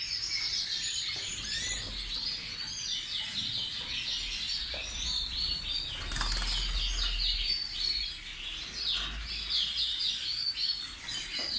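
Yorkshire canaries in a breeding room, including young birds, chirp and tweet busily, with repeated wing flapping and fluttering in cages, fairly close and continuous.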